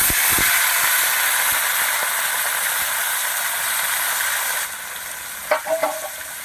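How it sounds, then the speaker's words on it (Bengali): Bhola fish bones dropped into hot oil with a whole dried red chilli, frying with a steady loud sizzle and hiss that eases partway, followed by a few sharp crackles and spatters near the end. "এবার এই কাটাটা আমি দিয়ে দিচ্ছি তেলে।"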